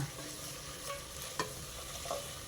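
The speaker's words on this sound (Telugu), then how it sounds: "ఇప్పుడు దీంట్లో పుదీనా కడిగి పెట్టుకున్నా కదా అది వేసేస్తున్నా ఇలా" Fresh mint leaves fry in hot oil: a steady, close sizzle and crackle broken by a few sharp scrapes and clinks from stirring, with no talking.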